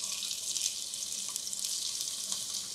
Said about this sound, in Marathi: आता हा कांदा याच तेलात सोडायचा